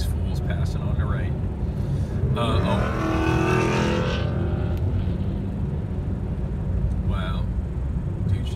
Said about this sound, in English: Dude should do something about his exhaust.